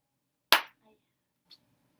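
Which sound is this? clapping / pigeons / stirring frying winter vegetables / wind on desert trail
clapping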